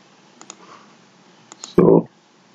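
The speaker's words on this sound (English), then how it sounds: "and then double click it." Faint computer mouse clicks come in quick pairs, like double clicks, on a quiet desk, followed by a brief louder burst of sound.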